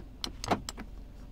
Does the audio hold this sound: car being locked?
yes